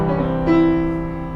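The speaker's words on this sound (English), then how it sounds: "So, for instance, we have a piano here." A piano chord rings out on its own, sustained with a slight swell midway as a new tone enters, then fading gently over about a second and a half.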